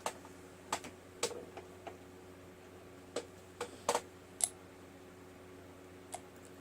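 Small metallic clicks and plunks as 9mm subsonic cast-bullet cartridges drop into a pistol chamber a few at a time, sharp and close against a quiet room, irregularly spaced.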